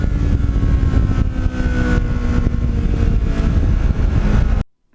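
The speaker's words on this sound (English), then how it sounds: "at full throttle, it has the sound of an Indy car" A Kawasaki Ninja motorcycle's exhaust roars at full throttle, a loud, dense, continuous engine howl that holds steady for several seconds before cutting off abruptly.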